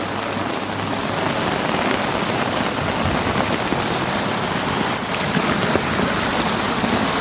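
A small creek rushes in the open during rain that has fallen for days, with steady, dense water noise and pattering drops that hold loud and even from start to finish, with no voices.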